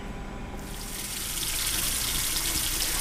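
Bathroom sink tap turned on, going from quiet to a steady, close rush of running water splashing into the basin.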